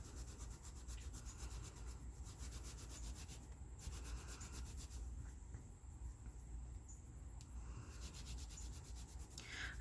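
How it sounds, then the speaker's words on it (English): A baby wipe rubbed back and forth over a stencil laid on a paper tag, giving a soft, steady, close scrubbing texture that runs continuously without pause and with no talking. "I'm just going to take a baby wipe and lay my stencil over my tag, and then I'm just going to rub over the stencil"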